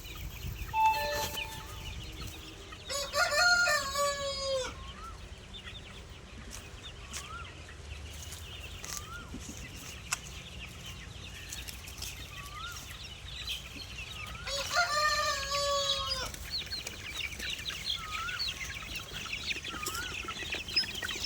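Young chicks and hens in a small chick-rearing setup, with faint peeping and soft clucks throughout and two loud, drawn-out rooster crows, one early and one later, no speech.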